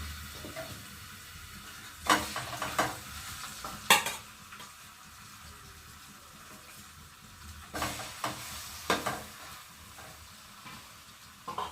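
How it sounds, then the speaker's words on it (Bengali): A fish head fries in hot oil in a pan, a quiet steady sizzle broken by a few sharp clatters of a spatula stirring and scraping the pan around two, four and eight seconds in. "মাথা আর এক পিস রয়েছে, ওটাই ভেজে নেব"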